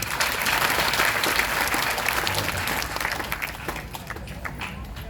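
A crowd applauding at a temple satsang, dense sustained clapping from many hands that gradually thins and fades toward the end.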